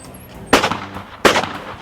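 Two loud, close shotgun blasts about three-quarters of a second apart, fired at sporting clay targets, each a sharp crack followed by a short rumbling tail; there is no talking over them.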